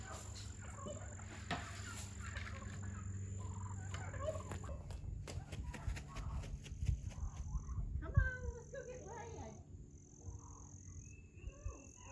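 Turkeys gobble in scattered bursts at a moderate distance, faint and repeated over a low outdoor background, with soft voices now and then.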